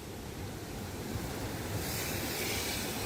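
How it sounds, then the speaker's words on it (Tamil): Sea waves surging and breaking on Paradise Beach in Pondicherry, a steady broadband roar with gusting wind that grows slightly louder and brighter in the last second; no voices. "இந்த அலைகள் எல்லாம் மாட்டினா அவ்வளவுதாங்க, ரொம்ப கேர்ஃபுல்லா தான் இருக்கணும்."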